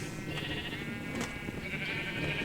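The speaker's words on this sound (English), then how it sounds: "we have a bunch of sheep inside" Sheep bleat repeatedly inside a compact Minecraft wool farm, their layered calls overlapping steadily over a continuous dense game ambience throughout.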